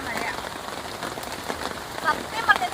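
Heavy rain pours steadily outside a forest campsite, pattering densely on a surface, with a few faint sharp chirps near the end.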